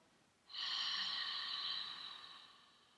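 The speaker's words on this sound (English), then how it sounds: "open the mouth, release the jaw, and as you exhale, start to create kind of a ha sound" Single long open-mouthed exhale shaped into a breathy "ha", starting abruptly and tapering off over a couple of seconds, close and soft with no talking.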